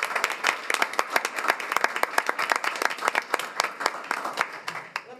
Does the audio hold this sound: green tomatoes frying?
no